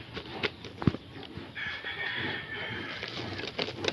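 Farm chickens make a faint, intermittent clucking and crowing-like cry, set against low background noise and a few brief knocks.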